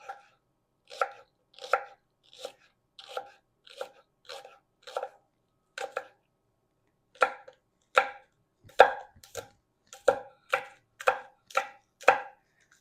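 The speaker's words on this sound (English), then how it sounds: "you're going to want to chop them thin" A knife chops scallions thin on a cutting board in crisp, evenly spaced taps, a steady run of strokes broken by one short pause, close and clear with no talking.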